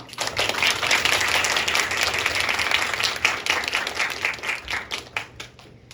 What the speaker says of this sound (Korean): 첫 번째 연사 백영준 연사자부터 큰 박수로 맞이해 주세요